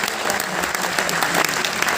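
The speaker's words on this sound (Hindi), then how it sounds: "ताली बजा लो खुद के लिए" Students in a classroom clap for themselves, a dense, steady burst of applause that stays loud and even for about two seconds with no talking over it.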